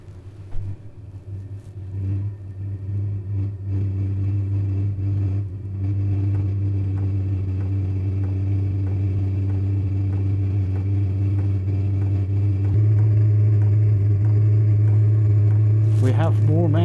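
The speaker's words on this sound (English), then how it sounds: "It takes a couple of minutes to get its act together. So it's now warming up the glow plug." A Chinese diesel heater runs through its startup cycle while the glow plug warms, giving a steady low hum and rumble that grows slightly louder partway through, with a brief higher whir near the end and no talk.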